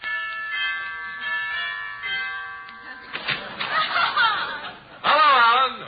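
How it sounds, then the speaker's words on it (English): A doorbell chime rings with sustained tones, then people chuckle and laugh while other voices carry on. "I'll ring the bell."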